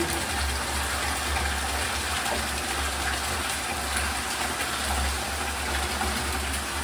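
Dirty water gushes steadily from a water filter during a backwash, a continuous loud rushing flow with a low pump-like rumble underneath, running unbroken throughout with no talking.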